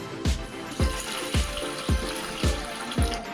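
Water splashing into a pressure cooker in regular bursts, about six evenly spaced gushes with low thumps, no voices.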